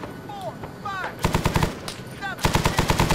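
Machine gun fire from the ArmA 3 video game rattles in two long, rapid bursts, loud and close, while whistling effects and a background battle hum fill the gaps between them.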